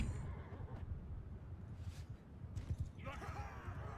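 A horse whinnies faintly during a battle in Mount & Blade 2: Bannerlord, its neigh mixed into a dense rumble of combat noise with someone talking over it.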